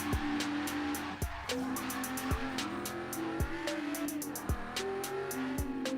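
Regalia truck with a big V12 spinning out in Forza Horizon 3, engine roaring near the redline while tires squeal in repeated screeching bursts, loud and continuous.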